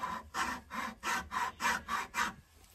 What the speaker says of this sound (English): you could just use the chainsaw file like this here